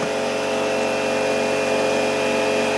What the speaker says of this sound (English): A friend of mine loaned me his hammer drill.